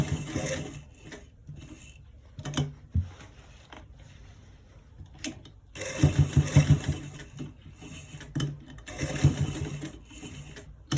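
Sewing machine stitching an inner front pocket, quiet bursts of rapid needle rattle separated by pauses and handling noises, with the busiest run in the second half.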